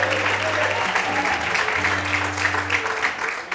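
Church congregation applauding steadily during an evening service, with sustained organ or keyboard tones and a faint voice mixed in under the clapping.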